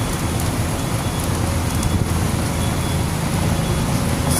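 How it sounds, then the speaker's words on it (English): Steady rain falls on a city street on Westchester Avenue in the Bronx on an afternoon, a constant hiss with faint traffic rumble beneath, and no talk. "See a lot of rain"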